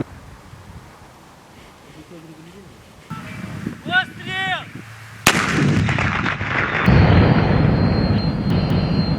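A mounted SPG recoilless grenade launcher fires with a sharp, loud blast followed by a rumbling roar, preceded by quieter mechanical clicks and a brief voice.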